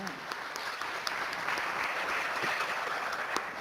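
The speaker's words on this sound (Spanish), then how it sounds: "Y también recibimos a la doctora Cecilia de la Torre con un aplauso." Applause welcoming Dr. Cecilia de la Torre as a panelist at a peacebuilding forum; steady, moderate clapping from a seated audience throughout, with a voice faintly audible beneath it.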